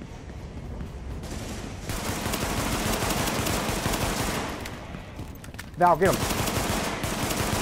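Rapid bursts of automatic gunfire in a military shooter video game, loud and sustained with short pauses, while players shout to each other over the shooting.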